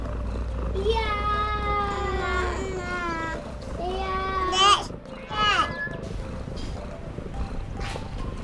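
A cat meows several times in drawn-out, wavering cries, close by, with short pauses between, ending in a couple of quicker yowls over faint background noise.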